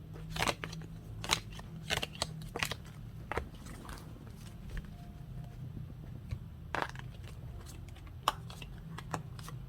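Tarot cards being shuffled by hand, heard as quick papery snaps and riffles scattered over a low background hum. Close and fairly quiet, with no talk.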